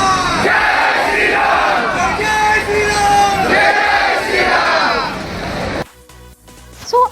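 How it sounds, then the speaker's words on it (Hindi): Pilgrims crowd Omkareshwar temple, many voices chanting and shouting together in loud rolling waves, the din cutting off abruptly near the end. "देख रहा हूँ भीड़ कितनी।"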